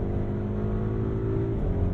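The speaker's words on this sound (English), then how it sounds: "The twin-turbo V8 woke up in noise and in power." Audi RSQ8 twin-turbo V8 under full throttle, a loud, dense engine roar that holds steady and climbs in pitch, with a brief dip and rise near the end like a quick downshift, heard from inside the cabin.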